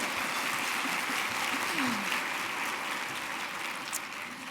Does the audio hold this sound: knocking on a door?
no